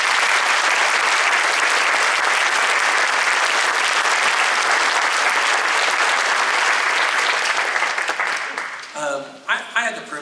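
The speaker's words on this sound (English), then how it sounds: "Please give a round of applause for them" An audience at a middle school honor band concert breaks into loud, sustained applause lasting several seconds, then it fades as a voice begins speaking.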